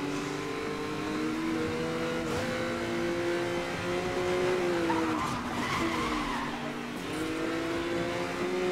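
Racing cars in Need for Speed Most Wanted Limited Edition (2012) hold a steady loud engine drone, with tires skidding and squealing through the corners and the revs rising and falling, no talk over it.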